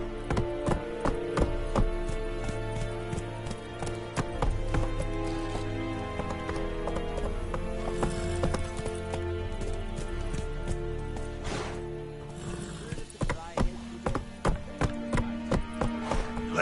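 In The Witcher 3, a horse clip-clops along in a steady rhythmic gait, the hoofbeats close and clear over game music and ambience, with no talk.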